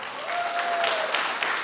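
Large audience applauding at Lei Jun's 2022 Xiaomi annual keynote speech: dense, steady clapping from a big crowd that fills the whole short moment without a break.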